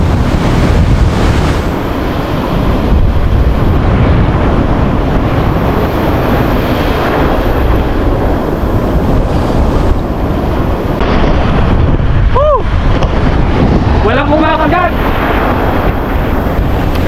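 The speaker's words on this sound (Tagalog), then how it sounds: "Kalalaki ng alon." Heavy surf roars steadily with strong wind buffeting the microphone, a constant wash of crashing waves and spray up close.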